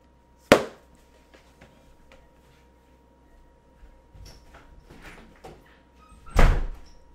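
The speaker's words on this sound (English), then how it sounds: "She walked out the door." A sharp, loud door bang near the start, then quiet shuffling and small knocks, and a second heavy door thud with rustle toward the end as someone goes out into the rain.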